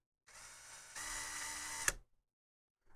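A center drill scraping copper off a circuit board for repositioned LEDs on an E39 wagon, a short whirring grind that steps louder partway through, ends with a sharp click, then falls silent.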